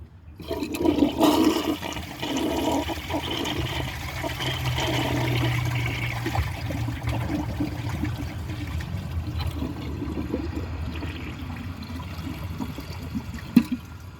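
A 1987 Kilgore toilet flushes with a washcloth and grocery bag in the bowl: a loud rushing swirl of water up close, easing into a long trickling refill, with a sharp knock near the end.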